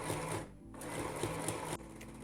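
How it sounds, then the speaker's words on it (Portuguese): A sewing machine runs steadily while stitching a fabric lining for a bag, close and continuous with a brief pause partway through, then resuming at a slightly different pitch, with no voices. "Sempre que a gente costura com a máquina, a gente faz um retrocesso"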